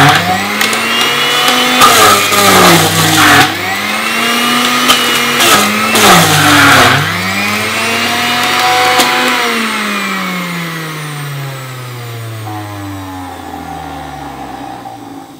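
A Gourmet Max electric juicer juicing carrots whines loudly, its motor pitch dipping and recovering in repeated arcs as each carrot is forced through, then spinning down with a falling tone at the end.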